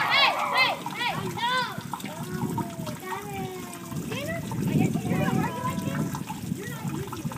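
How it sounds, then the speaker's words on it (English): Water raining down inside a DIY hydroponic vertical tower garden, a steady splashing and trickling patter heard close up while a person talks over it. "The water is just raining down."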